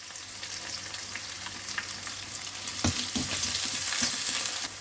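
Chopped onion drops into hot oil with frying ginger and garlic, raising a steady, bright sizzle with occasional stirring scrapes, close and continuous, no voices.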